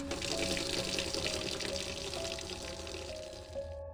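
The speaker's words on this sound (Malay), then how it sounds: "tiba-tiba, aku dengar air paip sinki dapur terpasang." A kitchen sink tap runs at night, a steady close stream of water pouring and splashing for a few seconds before easing slightly at the end, with no talk.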